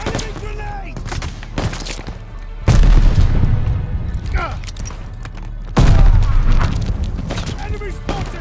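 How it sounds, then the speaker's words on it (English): Grenade blasts and gunfire in the Call of Duty Vanguard video game: two heavy booming explosions land about three seconds apart, surrounded by bursts of rifle fire and voices calling out in a loud, chaotic battle. "Enemy grenade!"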